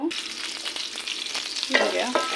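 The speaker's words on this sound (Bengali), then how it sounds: "এই যে তিলটা ভাজি করে নিচ্ছি আগে" Sesame seeds fry in a pan with a continuous crackling sizzle, close and moderately loud, with a few brief scraping stir sounds near the end.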